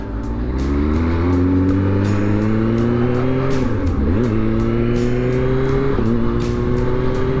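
Loud sports car engine revving up steadily, with quick-shifter gear changes cutting in and the pitch dropping then climbing again, close and continuous.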